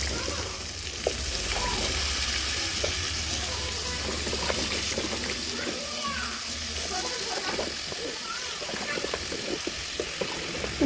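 Broiler chicken sizzles in a wok with potatoes and pumpkin. The frying hiss is steady and close, broken by occasional stirring scrapes, and a voice talks over it.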